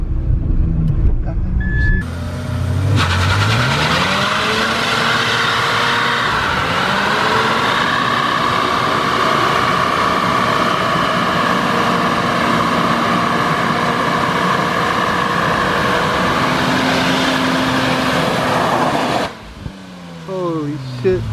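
A Mazda RX-7 doing a burnout, a loud sustained roar of high-revving engine and screeching tires that builds after a couple of seconds, holds steady for about sixteen seconds, then cuts off sharply near the end.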